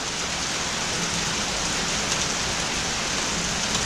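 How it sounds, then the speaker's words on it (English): Steady rain falls outdoors in a continuous, even hiss of drops on surfaces, close and constant throughout with no voices. "And it looks like now the rain set in for quite some time."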